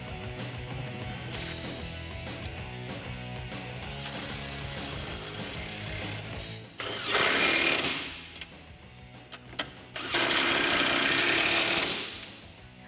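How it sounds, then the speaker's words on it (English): Power tool tightening 15 mm nuts back down on a 2018 Mustang GT during a Roush cold air intake install, heard as two loud buzzing bursts of about a second and two seconds, separated by a short pause over low background noise. "grab our 15 millimeter nuts and tighten these back down"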